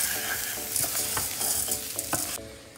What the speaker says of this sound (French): Je rajoute mon riz, là en l'occurrence c'est du riz thyme, avec n'importe quel riz ça fonctionne. Je mélange bien.